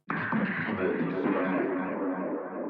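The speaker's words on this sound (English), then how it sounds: "It also has a layer where everything is 1 octave down." A deep singing voice pitched one octave down sustains a single thick phrase, dark and muffled, fading slightly at the end.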